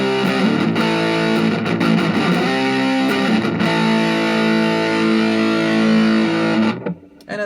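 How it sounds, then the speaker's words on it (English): Electric guitar played through a Boss MD-2 Mega Distortion pedal with the distortion turned up, sustained heavily saturated tones swelling into feedback, loud and steady, then cutting off abruptly near the end. "And turn up the distortion. Here comes the feedback."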